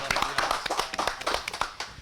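Audience applause at an Indonesian political talk show event in Sukabumi, a short burst of hand clapping with irregular claps, moderately loud, mixed with some background voices.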